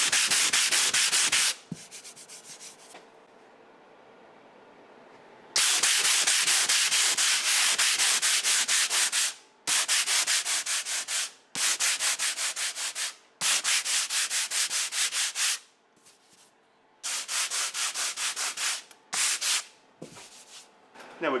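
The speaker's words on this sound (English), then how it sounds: "Now we're ready to give it a sand." Hand sanding of a patched gyprock wall, a loud abrasive scratching in long back-and-forth bursts with short pauses between strokes, close up, no voices.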